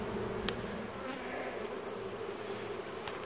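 Honey bees buzzing at close range while a cell starter hive is being set up, a steady, dense drone that continues throughout with no voices.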